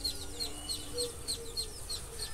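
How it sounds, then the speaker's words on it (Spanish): Repeated short chirpy clucks and calls from chickens in a steady rhythm, moderately close, with a faint low background hum and no talking. "hay muchas personas que les encanta el sonido de los gallos"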